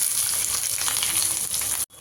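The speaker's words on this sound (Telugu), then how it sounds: "ఇది కొంచెం మంచిగా బ్రౌన్ కలర్ వచ్చే వరకు వేపుకోవాలి." Onion, green chillies, cloves, cardamom and cinnamon fry in a pan for home-style chole masala, giving a loud, steady, dense sizzle that cuts off abruptly near the end.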